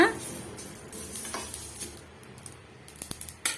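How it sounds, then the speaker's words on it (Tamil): Mustard seeds roasting in a pan for chutney, giving off soft sizzling with a scatter of small sharp pops and spatters that grow busier toward the end, alongside faint stirring and clinks of utensil on pan. "நம்ம இருக்கிற கடுகு வந்து நல்லாவே உடஞ்சி வருது"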